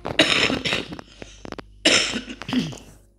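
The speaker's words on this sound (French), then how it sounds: "je vais finir par couper, je tousse encore" A person coughs in two harsh bursts, several hacking coughs each, close to the mic with short quiet gaps between.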